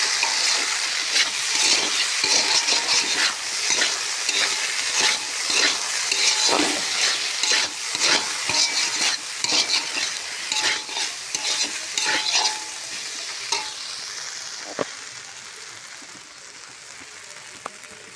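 Potato bhaji sizzles in a home kitchen pan while a utensil repeatedly scrapes and stirs it, giving close, irregular clatter over a steady frying hiss. The stirring thins out toward the end, leaving mostly quiet sizzling.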